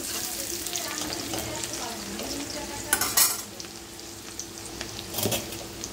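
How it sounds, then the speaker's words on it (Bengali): Onions are stirred and lightly fried in a pan for a Bengali chicken feet dish, with a continuous soft sizzle broken by a few louder scraping clatters of the spatula against the pan. "পেঁয়াজটাকে একটু নেড়ে নেব, পেঁয়াজটাকে সুন্দর করে একটু ভেজে নেব হালকা করে।"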